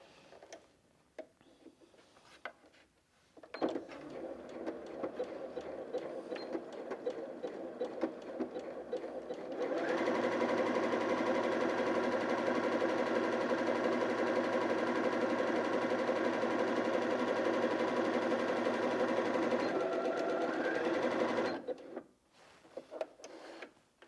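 Janome Sewist 740DC sewing machine stitching a zigzag, a steady close whirring hum with rapid needle ticking that runs continuously and then stops, with brief mechanical clicks before and after.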